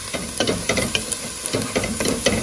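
Onions caramelizing in a pan give a steady close sizzle and hiss, with soft scraping stir strokes repeating every fraction of a second.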